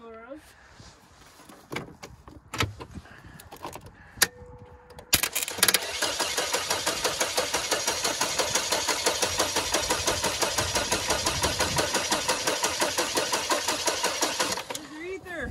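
An old 2.4 twin cam engine cranks over and over in a steady, rapid rhythmic churn that carries on for about ten seconds without catching, loud and close, after some knocks and short talk beforehand.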